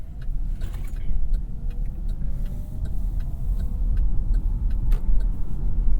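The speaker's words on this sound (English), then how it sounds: "You do hear a decent amount of mechanical noise, the drivetrain noise in there." A Chevrolet Bolt EUV on the highway gives off a constant low rumble of road and drivetrain noise, with light ticks and rattles scattered over it, heard from inside the cabin without talking.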